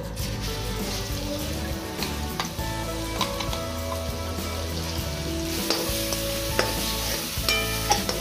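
Chopped garlic frying in hot oil for a homemade Schezwan chutney, a steady close sizzle with stirring scrapes and small clinks throughout, no talking.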